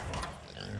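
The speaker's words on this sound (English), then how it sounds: "These are my pigs. They're not too happy that they're now over here in this barn" Pigs grunting in a barn, unsettled and waiting to be fed in the morning; a close, steady stream of low rough grunts and snorts fills the short moment with no pause.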